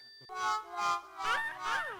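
A phone rings in a busy shop, a bright electronic ringtone with repeating melodic tone bursts rising and falling, heard up close and fairly quiet.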